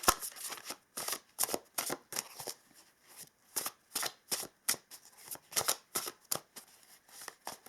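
Oracle cards shuffled in a steady run of crisp riffling bursts, each a short papery flutter repeating about twice a second, close and clear with no talking.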